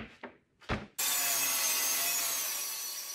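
A saw begins cross cutting a sheet of plywood after two short knocks, then runs in a loud, steady whine for two seconds close up.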